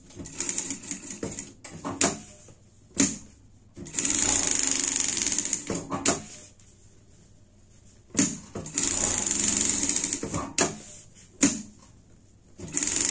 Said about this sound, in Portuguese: E colocar a manta embaixo, tá? E passar uma costura ao redor.